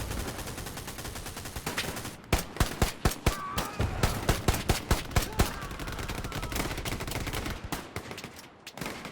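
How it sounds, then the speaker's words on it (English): A semi-automatic rifle fires in the shooter game Hell Let Loose, a rapid string of loud, close, sharp shots in an uneven rhythm over constant battlefield rumble, with no one speaking. "This semi-automatic rifle on the US side is fantastic for close quarters combat."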